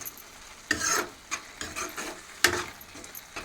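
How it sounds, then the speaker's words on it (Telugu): Spinach paste fries in a pan with a soft sizzle, broken by several scraping stirs of a spoon, close and moderately quiet. "ఇంకా బాగా దగ్గరగా మగ్గిదాకా ఫ్రై చేసుకుంటే టేస్ట్ సూపర్ ఉంటుంది అన్నమాట"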